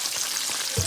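Cajun-battered catfish in Andy's Cajun fish batter frying, a steady close hiss of sizzling oil over a very short moment with no talking.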